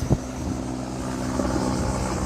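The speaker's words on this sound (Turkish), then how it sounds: "helikopter tam tepemden geçiyor şu anda" An observation helicopter passes overhead above a burning forest, a steady rotor and engine drone filling the whole stretch at even strength, with a brief louder thump near the start.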